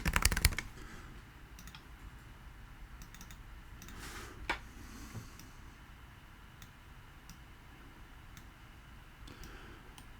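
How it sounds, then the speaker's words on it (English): Keys clatter on a computer keyboard in irregular bursts of clicks and taps, close and fairly quiet, with pauses between short runs of typing. "Fork Banger was typing there for a second"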